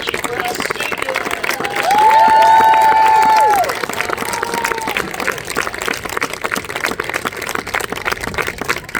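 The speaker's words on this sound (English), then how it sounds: "let's have one more round of applause" A concert crowd applauds and cheers for the performers, a broad wash of clapping with a sustained brassy tone rising briefly near the start, then continuing applause.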